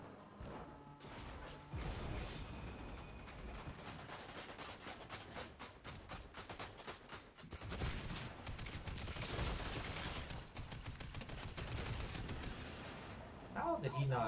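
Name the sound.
cannon fire in the video game Fortnite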